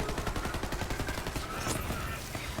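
Rapid gunfire from the new endgame weapon, the M4 Wotan, in a video game, a dense continuous burst of shots, loud and close, without a pause across the whole stretch.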